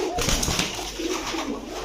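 Pigeons at a Bangladeshi pigeon shop selling stone-eyed, teddy, fantail and Saharanpuri birds coo in low, throaty murmurs that run continuously and close by, layered over a dense indoor clamor of many birds.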